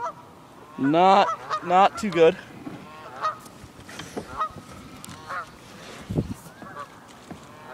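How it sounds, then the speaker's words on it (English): A Canada goose snagged on a fishing line honks loudly several times in quick succession near a lily-padded pond, then the calls fade while someone talks. "I sort of have a Canadian goose on my rod right now."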